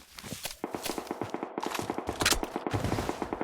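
Rapid bursts of automatic gunfire crackle in a Blood Strike shooter match, dense and close, with quick repeated shots and thumps running throughout.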